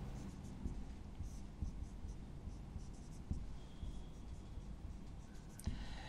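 Pen or marker writing out a chemistry lesson on complex compounds, a steady close scratching stroke sound over constant background hum, with a few soft taps.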